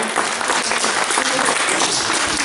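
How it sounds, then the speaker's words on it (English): Close, loud audience applause at a Christmas show, a dense unbroken roar of many clapping hands holding at a steady level for the whole stretch. "let's give him a big round of applause."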